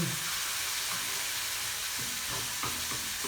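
Diced onions sizzle and fry in a pan next to browning beef for a casserole, a steady loud hiss with a few soft stirring scrapes near the end and no talking.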